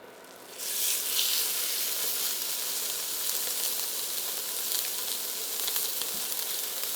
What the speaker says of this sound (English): We should hear it sizzle.